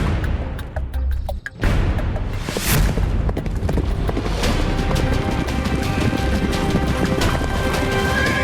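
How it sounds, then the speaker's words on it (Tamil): Horse hooves clip-clopping along a path in a period drama, a steady loud trotting rhythm over a dense busy background with a brief dip early on. "குதிரை சத்தம் கேட்கிறது, அதுவும் இந்த பாதையில்."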